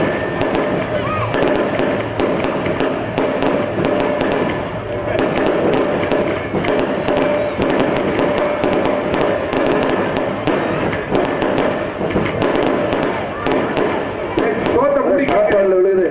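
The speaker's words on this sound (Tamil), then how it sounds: "அப்ப அந்த வெடி" Firecrackers burst in rapid, irregular volleys at a Tamil village temple festival drama, sharp cracks scattered densely over a loud crowd and voices talking throughout.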